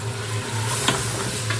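Raw chicken sizzling loudly in a pan with garlic-ginger paste, a steady close hiss with a hum underneath and a few brief clatters of stirring.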